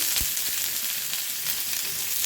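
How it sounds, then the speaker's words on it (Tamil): Chopped onion and long-cut potato sautéing with cumin seeds in a pan for a wheat-and-vegetable adai breakfast, a steady close sizzle with faint scraping, no voices. "இது கொஞ்சம் பொரிஞ்ச உடனே நாம் ஆனியன், நீளமாக கட் பண்ண உருளைக்கிழங்கு,"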